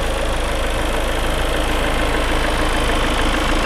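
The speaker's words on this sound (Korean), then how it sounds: "엔진 소리 일정합니다" A 4th-generation Ford Mondeo 2.0 idles with the hood open, giving a steady, even engine hum close by with no pauses or revs.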